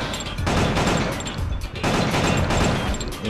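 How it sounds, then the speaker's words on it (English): Gunshots in the Killer 7 video game, aimed at an enemy's arms, coming as two loud sustained bursts of rapid firing with a short gap between them. "So yeah, you shoot his arms"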